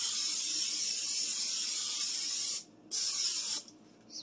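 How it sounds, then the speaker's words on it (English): Butter spray aerosol hissing steadily onto a muffin tin in a home kitchen, a long continuous bright spray for over two seconds, a short pause, then a second burst that stops briefly and starts again, close and loud with no talking. "Take your butter spray."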